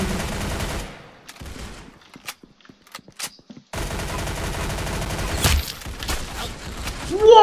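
Gunfire in the video game Arsenal, loud rapid automatic bursts opening and closing the stretch, with a quieter gap of scattered single shots in between.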